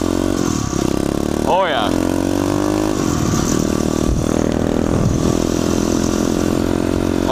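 An SSR 140 motorcycle runs in second gear, its engine a loud, close, steady drone with a brief pitch sweep, while a rider's voice speaks briefly over it.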